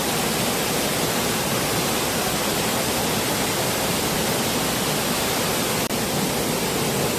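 A waterfall near Seoul roars as a dense, unbroken rush of water, loud and steady throughout with no voices.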